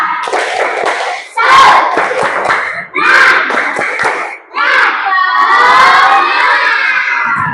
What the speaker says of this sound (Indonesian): yuk bareng-bareng kita tepuk semangat